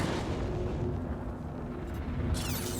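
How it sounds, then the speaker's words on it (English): A missile launched at a ship in the space combat game Star Citizen gives a dense, loud roaring rush that holds steady before a brighter hiss cuts in near the end. "Let's go ahead and throw a missile at him."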